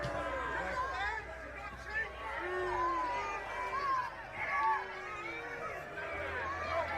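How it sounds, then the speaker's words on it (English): A crowd boos the Australian Prime Minister with long, drawn-out, wavering boos from many voices. A murmur of general crowd noise runs underneath throughout. "a contingent of the crowd did boo him"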